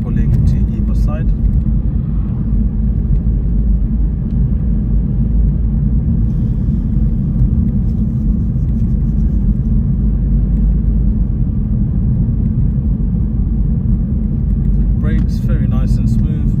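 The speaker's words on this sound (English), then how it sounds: "Picks up with no hesitation, and the vehicle drives in a nice straight line with no pulling to either side." A 2013 BMW 116d on a test drive gives a steady, loud low engine and road rumble that holds constant throughout, with no talk over it.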